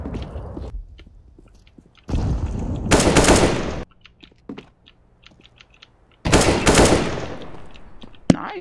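Video game gunfire rips out in two loud, dense bursts of rapid automatic shots, each lasting about two seconds, separated by quieter stretches with faint clicks and a sharp single report at the end.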